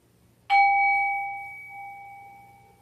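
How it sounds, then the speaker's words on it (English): A singing bowl is struck once and rings out alone with a clear, sustained metallic tone that slowly fades over a couple of seconds in a quiet room. "Here is the singing bowl. We listen to it. It rings clearly."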